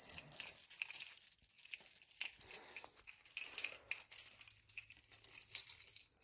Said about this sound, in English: Let me take my key out the key ring real quick.